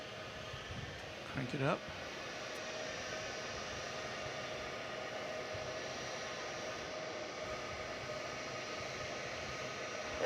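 A Boeing 757 jet airliner at DFW Airport at night gives a steady, broad engine roar that holds for the whole ten seconds, and a voice is heard briefly near the start.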